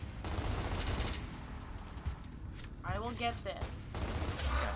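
Sustained gunfire in the Gears of War Ultimate Edition video game, a dense rattling fusillade under a voice, with a brief whooshing effect midway.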